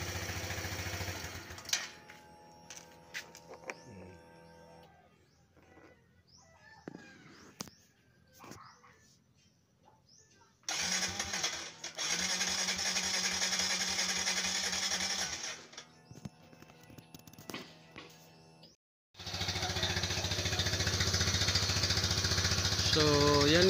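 A motorcycle engine fires up after a hard-starting fault, chugging in uneven bursts before settling into a loud, steady idle, with some speech and a dog barking in the background.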